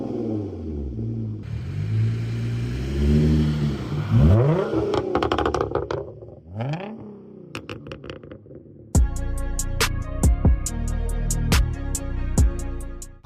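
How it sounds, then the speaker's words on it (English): Hyundai Genesis Coupe exhaust revving, close and rumbling, with rising and falling engine pitch through several revs, followed by a clattering, rattly idle toward the end. "We're gonna get a quick video of the exhaust."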